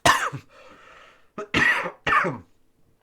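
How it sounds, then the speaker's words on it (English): Several coughs in quick succession, close and fairly loud, with a short throaty rasp between bursts and a pause before the last two. "I have a cough still"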